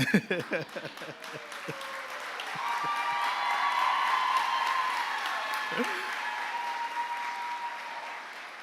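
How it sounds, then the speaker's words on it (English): Audience at an NSCC Kingstec campus convocation ceremony breaking into sustained applause, many hands clapping in a large hall, rising to a broad wash and fading, with some talking and cheering mixed in. "I would applaud too."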